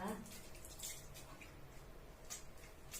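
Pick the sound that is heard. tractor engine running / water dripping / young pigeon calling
water dripping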